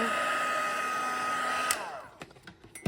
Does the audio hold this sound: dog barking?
no